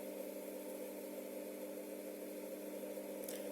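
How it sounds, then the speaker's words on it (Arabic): Arcelik 7103HE washing machine motor turning after a control board repair, a steady close mechanical hum with fixed tonal bands and no pauses, heard alone without talk. "وهذا هو المحرك يدور الآن"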